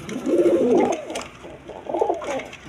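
Breeding pigeons, a male and female pair kept for eggs and chicks, coo close by in two soft, throaty phrases separated by a short pause.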